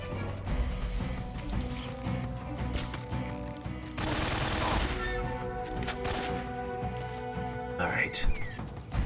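AK rifle fire in a video game, loud bursts of automatic shots repeating across the stretch with a sustained volley in the middle, heard under ongoing talk.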